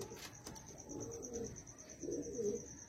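Pigeons coo softly in two or three low, rolling phrases at a moderate distance, over a faint steady high-pitched whine.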